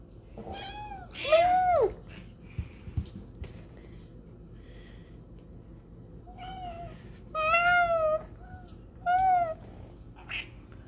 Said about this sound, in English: has like the cutest, most dainty and delicate meow